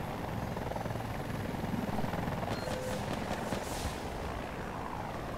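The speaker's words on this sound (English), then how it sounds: "he's on his chopper, he jumped" Helicopter in the video game Battlefield 2042, a faint continuous rotor and engine drone in the background, mixed with distant game noise.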